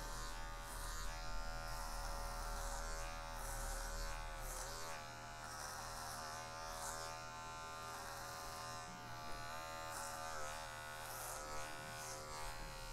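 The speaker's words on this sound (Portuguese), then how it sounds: "A gente vai direcionar e vamos começar usando a máquina com o pente 2" Electric hair clipper fitted with a number 2 guard cutting hair, a steady close buzzing hum running throughout with slight shifts as it passes through the hair.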